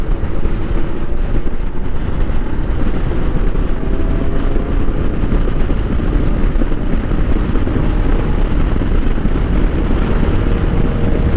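An enduro motorcycle is being ridden, heard as a steady, unbroken roar of engine and rushing wind. It stays loud and close throughout with no speech.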